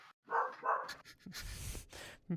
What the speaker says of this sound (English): This dog is driving me nuts today.